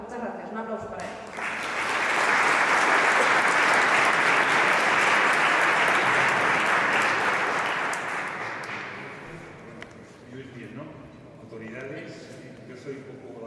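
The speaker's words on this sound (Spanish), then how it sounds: "Un aplauso para él." Applause from a conference audience greeting José Hidalgo Togores before his talk on the potential of the Bobal grape, swelling after a second, sustained for several seconds, then fading out beneath quieter room sound.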